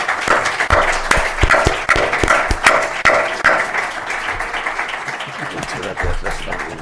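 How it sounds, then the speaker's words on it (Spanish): A seated audience at a press and power conference gives a round of applause, dense clapping close and loud that starts crisp with sharp individual claps and thins into a softer, steady patter toward the end. "Un aplauso."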